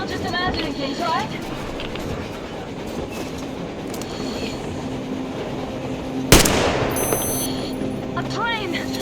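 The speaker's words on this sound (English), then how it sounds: "A train! A damn train on the surface!" In the video game Metro Exodus, a train approaches across snowy surface terrain, its rumbling clatter mixed with wind, a sharp sudden crack and metallic tones, while voices talk over the scene.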